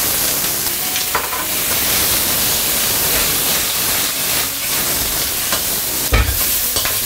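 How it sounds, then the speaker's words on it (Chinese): Shrimp and two slices of ginger frying in chicken fat in an iron wok, a loud steady sizzle with stirring and a sharp clatter near the end. "下个2片姜，提前 洗好的虾给它爆香一下"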